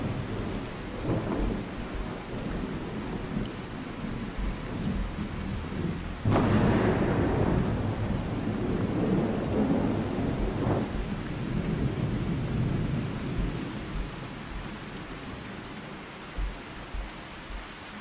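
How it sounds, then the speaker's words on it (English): Steady rain and rolling thunder in the video game Fallout 4, a constant wash of rainfall with a sharp loud thunderclap partway through followed by a long rumble, no talk. "It's raining."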